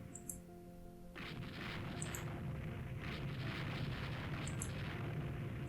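Naval gunfire in the warship strategy game Rule the Waves 3, set around 1899: a hum gives way to a sudden heavy, sustained roaring rumble of continuous shellfire that stays loud and dense throughout.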